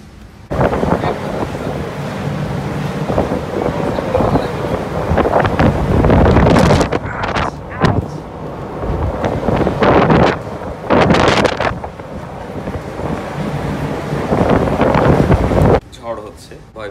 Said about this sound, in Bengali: বাইরে অন্ধকার হয়ে গেছে, প্রচণ্ড বাতাস আর বৃষ্টি